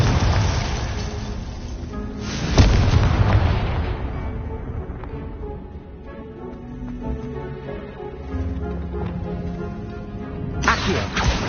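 Confringo blasting spell exploding in the Hogwarts Legacy video game, a sharp booming burst that rolls into a long rumbling decay, followed later by a second burst, with game ambience throughout.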